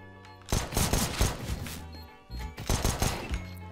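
P90 submachine gun fire in a video game 1v1 match, two loud rapid automatic bursts close up, the first about a second and a half long, then a brief gap before the second.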